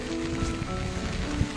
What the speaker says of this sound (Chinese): 下大雨，